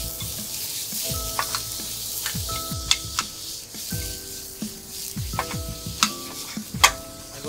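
Julienned onions, green peppers, garlic and tomato cook in a pan with a continuous sizzle, broken by repeated sharp clicks and scrapes of stirring utensils.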